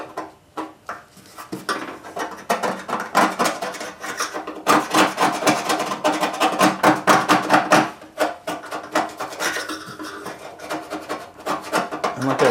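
A scraper grinds paint off the metal tailgate of a Ford F100 truck in loud, close, rhythmic rasping strokes that come in quick bursts with short pauses, and no one talks over it.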